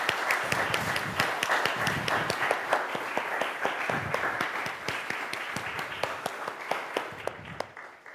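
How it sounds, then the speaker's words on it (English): A congregation at a church service applauds steadily, many hands clapping together in a sustained, even roar that fades slightly toward the end. "Let's give them a round of applause."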